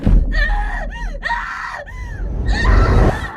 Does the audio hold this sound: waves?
no